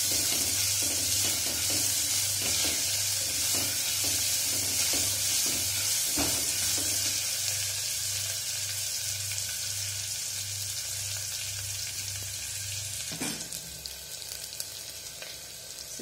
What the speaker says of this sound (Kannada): ಬ್ರೌನ್ ಕಲರ್ ಬರೋವರೆಗೂ ಫ್ರೈ ಮಾಡ್ಕೊಳ್ಳಿ.